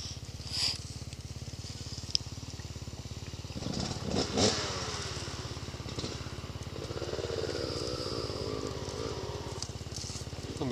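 A dirt bike engine drones and revs as it climbs a snowy hill on the Kern River trail, fairly quiet and at a distance, rising and falling, with faint voices in the background.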